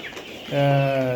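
A single drawn-out call from 67-day-old layer pullets in a poultry shed, one clear voiced note rising in after a brief soft sound, close by.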